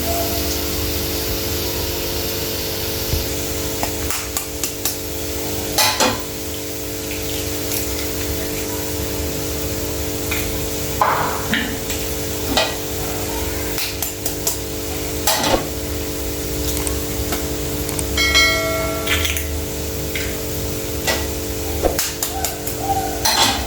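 Eggs go into a hot frying pan with onions, setting off a steady loud sizzle and hiss that runs throughout, with occasional clicks and taps of a utensil against the pan.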